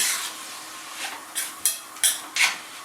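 Hamburger meat seasoned with onion powder, salt, pepper and garlic powder is stirred in a frying pan, giving a series of about five scraping, clattering strokes over a faint steady sizzle, close and moderately loud.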